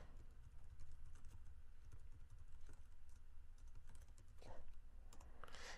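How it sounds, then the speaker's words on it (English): Computer keyboard keys tapped as a web address is typed into a mobile-device tester, a quiet run of light clicks over a low background hum. "So let's again just type our URL in here."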